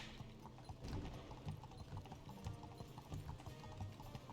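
Steady clip-clop of a horse's hooves from the SpongeBob game The Cosmic Shake, an even rhythmic trot running the whole time over busy game music, with no one speaking.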